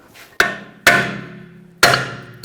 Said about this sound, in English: If it's stuck on there, we're going to hit it with a hammer.